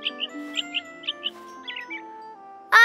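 A small cartoon bird chirps in quick pairs of high tweets, repeated several times over soft background music, ending in a sudden louder tone.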